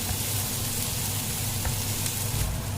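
Green chillies fry in oil for chilli pachadi, a steady close sizzle with fine crackles and a few sharper pops, continuous and without talk.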